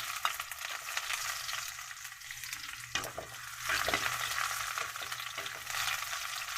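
Onions fry with garlic in a hot pan: a dense, steady crackling sizzle with bursts of stirring, close and fairly loud.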